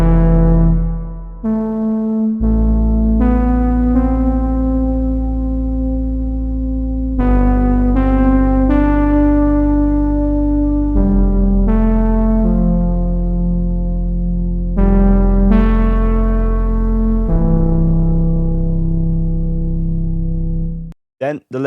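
Parallax synth preset from a Diva soundbank for melodic techno and house plays a bright, harmonically rich lead line, with sustained notes stepping between pitches over a steady bass for about twenty seconds, loud and alone.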